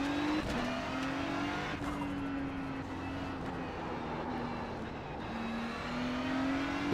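A Ferrari 296 GT3 race car engine in the iRacing game drones steadily at high revs with brief shifts in pitch, loud and continuous, no talk.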